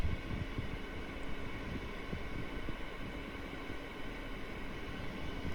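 A Resiners air purifier fan runs on its second of three speeds, giving off a constant airy rushing drone with low rumble, steady and close, with no talking.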